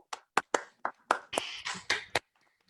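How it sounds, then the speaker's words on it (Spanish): Scattered applause comes through microphones on a Zoom call, about nine separate sharp claps in an uneven rhythm, faint and sparse, then stopping. "Pedimos a los que están en el Zoom que enciendan su micrófono para darle un aplauso de agradecimiento"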